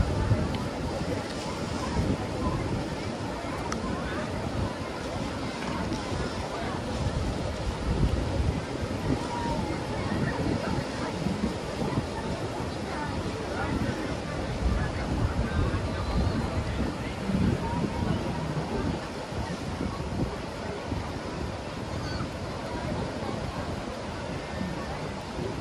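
Sea waves roll in on the beach at Trà Cổ near Móng Cái, Quảng Ninh, a steady broadband wash mixed with wind buffeting the microphone, with a person's voice talking over it at times.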